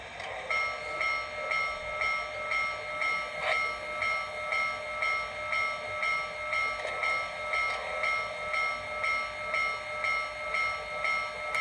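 An HO-scale Trix Big Boy model steam locomotive chuffs in a steady, even rhythm, with a high metallic hiss throughout and a brief faint whistle.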